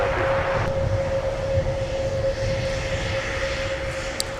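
A steady roar of a heavy Airbus jet engine departing in winter, with a constant whine, continuous and moderately loud, with no talking.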